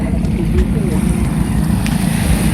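The engines of a bangka outrigger boat drone steadily with low rumbling, mixed with wind noise buffeting the microphone outdoors at sea.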